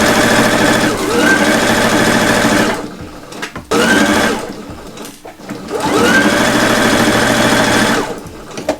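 A home sewing machine stitches a zipper onto an easy zipper purse, its needle set all the way left: loud, close mechanical whirring in three long bursts with short quiet pauses between them, no talk over it.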